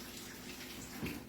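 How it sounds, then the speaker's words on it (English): Tap water runs steadily into a pot for cooking asparagus in a community-centre kitchen, a soft, even stream with a brief louder gush near the end. "I have the water on for my asparagus"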